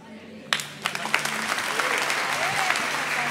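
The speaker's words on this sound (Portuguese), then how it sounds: "Vamos aplaudir a Paty aqui, gente" A church congregation breaks into applause after a testimony, a quiet room suddenly filling with dense clapping that swells and sustains, with some voices mixed in.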